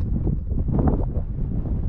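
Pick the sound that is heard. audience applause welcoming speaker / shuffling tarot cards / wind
wind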